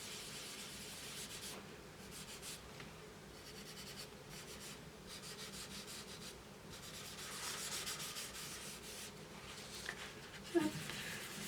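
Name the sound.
paper towel rubbing over a colouring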